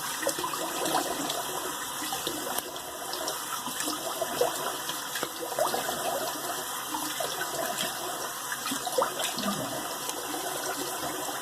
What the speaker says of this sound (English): let me rinse it with my cold water